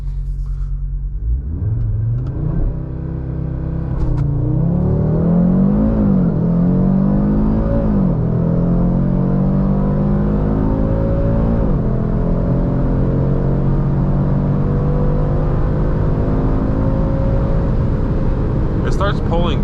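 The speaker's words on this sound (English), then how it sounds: "Starts pulling good in the upper RPMs." A 2024 Audi RS3 at wide-open throttle, its engine note climbing steadily through the revs with a rising harmonic whine and deep rumble, loud and close with brief gear-change dips, no talking.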